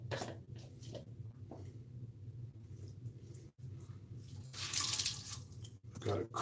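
Tap water runs while a washcloth is rinsed at a sink after shaving, a steady close hiss and splash that swells toward the end, with low room rumble beneath.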